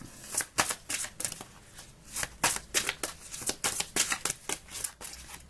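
Tarot cards being shuffled and drawn by hand, a rapid series of crisp riffling snaps and papery flicks in uneven bursts, close and fairly quiet, with no voice over them.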